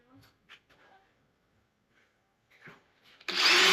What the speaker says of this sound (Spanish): Venimos con la broca y perforamos.